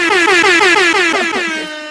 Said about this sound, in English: doggone air horns